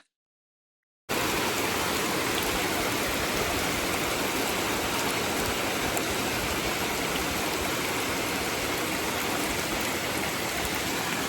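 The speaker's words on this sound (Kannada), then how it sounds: "ನೋಡಿ ಮಳೆ ಹೆಂಗೆ ಬರ್ತಾ ಇದೆ ಅಂತ" Rain pouring down in a dense, continuous hiss that starts abruptly after a brief silence, then stays loud and even, close by, with no talking.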